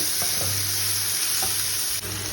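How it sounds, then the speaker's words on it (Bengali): Onion, carrot and tomato fry with salt and turmeric in a pan, a dense, even sizzle with a low steady hum beneath and faint stirring taps, close and without speech. "একটা পেঁয়াজ গোটাটাই দিয়ে দিয়েছি সামান্য একটু গাজর আর টমেটোও দিয়ে দিলাম দিয়ে নুন হলুদ দিয়ে একটু ভাজা ভাজা করে নেব"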